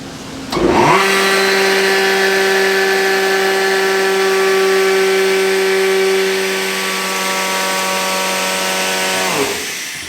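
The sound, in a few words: grain blower starting up to clear a plugged Case IH combine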